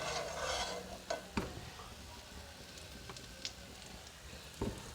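Ghee poured around an egg paratha in a pan gives a faint, soft sizzling hiss with a few scattered clicks and taps, quiet and steady throughout.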